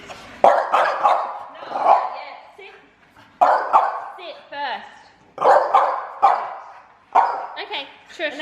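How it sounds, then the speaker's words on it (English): Several dogs bark in loud repeated bursts at a home, with excited yips between volleys, while people talk over and between the barking. "Dog."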